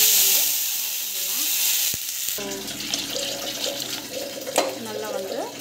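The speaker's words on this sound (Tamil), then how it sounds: "தேவையான அளவுக்கு தண்ணி வந்து" Water is poured into a hot cooking pan, splashing and hissing as it meets the contents before settling into a bubbling sizzle, while a voice talks faintly alongside.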